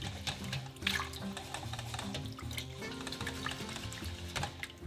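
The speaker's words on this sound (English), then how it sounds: "you kind of zhuzh it. You just kind of stir it." Rice being stirred and rinsed in a pot of water, a steady close sloshing and swirling with small splashes throughout.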